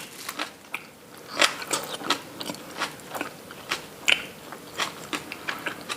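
Pork trotters (jokbal) eaten by hand, giving close, intermittent sticky clicks, smacks and chewing sounds in an irregular rhythm, fairly quiet, with no talking.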